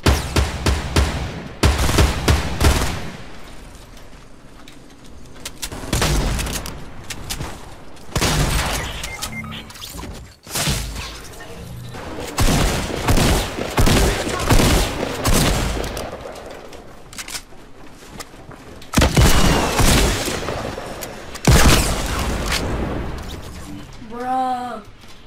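Gunfire in a Fortnite battle royale match: repeated bursts of shots and booming blasts in clusters over about 25 seconds, loud and close, with game sounds and some voices in between.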